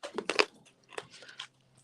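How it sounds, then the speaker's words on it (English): Someone chewing crunchy food close to the mic: a few quick crisp bites up front, then softer, sparse crunches trailing off, with no talking. "I'm totally chewing a."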